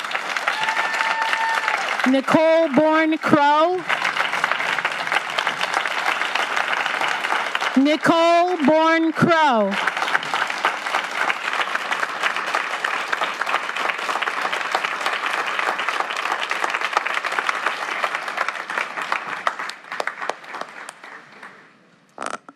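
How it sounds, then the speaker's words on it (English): Sustained audience applause at a council meeting, a dense, loud roar of clapping that carries on for most of the stretch and tapers off near the end, with a voice speaking over it twice early on. "We can keep clapping for sure."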